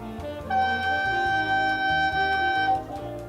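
A soft, pure recorder tone holds one steady note for about two seconds over a quiet background accompaniment.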